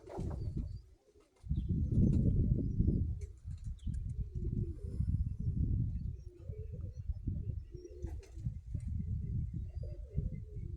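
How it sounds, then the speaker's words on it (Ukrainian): Young pigeons coo in a soft, continuous low murmur, close by, with faint rustling and occasional higher chirps over the top. "Отакі голубенятка."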